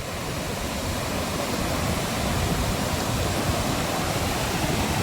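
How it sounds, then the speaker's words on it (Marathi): A flooded river rushes past in a loud, unbroken roar of churning water, steady and close with no voices over it. "सुंदर पाणी आलेले आहे, पूर आलेला आहे नदीला"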